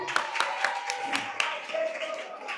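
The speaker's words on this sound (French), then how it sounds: "On applaudit pour le public." Audience clapping at a school quiz contest, a mix of scattered claps and crowd noise with some voices talking over it throughout.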